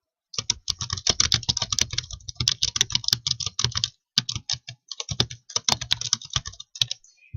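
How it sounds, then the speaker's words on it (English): Rapid typing on a computer keyboard while entering text into a PowerPoint 2013 slide, close and fairly loud, with dense bursts of key clicks, a brief pause near the middle, and then more flurries of keystrokes, with no voices. "Now we're going to type some information in here."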